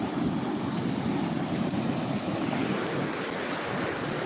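Flood water rushes along a swollen river in a steady, broad roar with some wind buffeting the microphone. No voices are heard.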